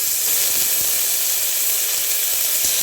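Onions, garlic and tomato sauté in a hot pan for dal rice, giving a steady, close, unbroken sizzling hiss throughout.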